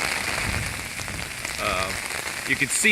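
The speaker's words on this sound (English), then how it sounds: "Yeah, now we're getting some good rain." Heavy rain pours down in a steady, dense hiss of drops hitting surfaces, close and fairly loud, with a few brighter splashes and patters building toward the end.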